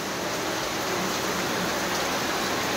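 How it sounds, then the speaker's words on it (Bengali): Heavy monsoon rain falls in Shariatpur, Bangladesh, as a dense, steady roar of downpour that fills the whole stretch evenly. Nothing else is heard. "আজকে হচ্ছে হলো এত জোরে বৃষ্টি গাইস, আপনারা কল্পনা করতে পারবেন না।"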